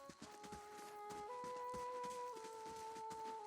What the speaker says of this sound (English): I hear some horses.